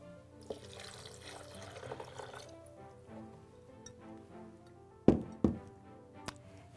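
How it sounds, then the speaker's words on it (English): Water poured into a measuring cup while making vegan cheese, a soft continuous trickling and filling sound close by, ending with a few sharp knocks and clatters of the cup near the end. "so I'm going to put 1 cup of water first."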